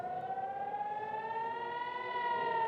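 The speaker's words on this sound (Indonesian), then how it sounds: "Sirine pun terus berbunyi tanpa henti saat rudal memasuki langit kota Naharia." An air raid siren in Nahariya, Israel, sounding during a Hezbollah rocket attack, wails in one long, continuous tone that slowly rises in pitch, loud and sustained with no other sounds.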